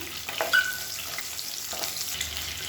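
Lively close frying crackle as small onions, green chilies and asafoetida cook in hot oil for kara kuzhambu, with a brief sharp utensil clink early on and no voices.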